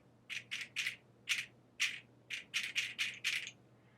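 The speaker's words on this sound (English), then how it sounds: "If I take my seed pod shaker here and I very gently tap it, I get this cute little light sound." Seed pod shaker tapped gently, about a dozen short, light rattling bursts in an uneven rhythm, faint and close, with no other sound.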